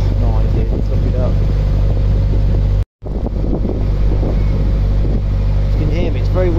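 Strong wind buffets the microphone aboard a canal boat leaving Newark, a loud continuous roar with one short dropout. A person's voice may be faintly present beneath it.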